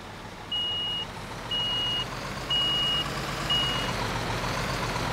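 In the video game Bau-Simulator 2015 a truck backing up sounds four evenly spaced reversing beeps, each about half a second long, over a low idling engine rumble, with no talk.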